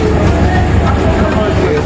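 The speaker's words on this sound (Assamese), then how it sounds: "এয়া হ'ল আমাৰ ডিমৌ ট্ৰেইন।" A DEMU train at New Bongaigaon Junction at night, a loud, steady low rumble of the diesel-electric unit close by, with a voice speaking over it.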